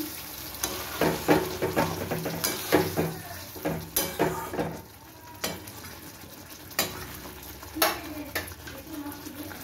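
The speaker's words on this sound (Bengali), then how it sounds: "আমি এবার এর মধ্যে 1/2 কাপ মতো জল দিয়ে দিলাম।" Rui fish korma bubbles and sizzles in a pan while a spoon stirs and clinks against the metal in irregular bursts after half a cup of water goes in, with no voices.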